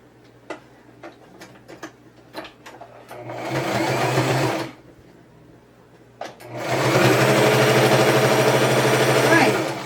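Sewing machine stitching a seam on a scrappy Christmas potholder, running in two loud sustained bursts separated by a pause, with light clicks and taps of handling before the first run.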